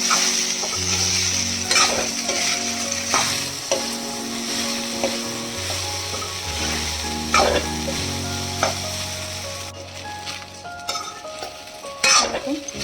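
Sago stirred and fried in a pan over a gas flame for sago pulao: a steady close sizzle with repeated scraping spoon strokes against the pan, over a sustained tonal drone, no talk.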